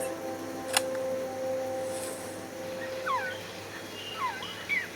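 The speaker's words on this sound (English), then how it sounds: "She went out into the jungle to record bird calls and stumbled upon this." A recorded jungle bird call, a quetzal-like creature from Metal Gear Solid: Peace Walker, sounds as a few short chirping, swooping whistles over steady ambient hiss. A brief click comes early on.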